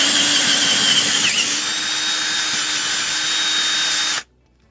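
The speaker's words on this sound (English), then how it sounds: "start making the hole right in the middle. And this is for the pin. And it's a 1/2 inch." A power drill bores a 1/2 inch pin hole for a homemade all-terrain beach wheelchair, a loud steady whine running without a break for about four seconds before it stops abruptly.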